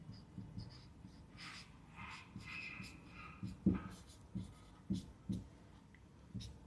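Pen scratching out a closing capital formula for a class 11 accounting lesson, soft irregular strokes and taps heard up close, with faint breathing between them.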